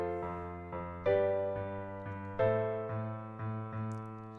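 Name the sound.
deceptive cadence, dominant resolving to six minor chord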